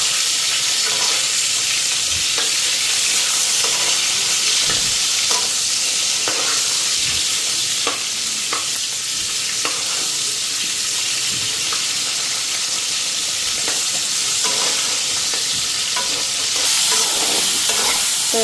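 Fish fries in hot oil with black cumin, sizzling in a steady hiss for the whole stretch. Occasional clicks and scrapes come from stirring in the pan, and no one speaks.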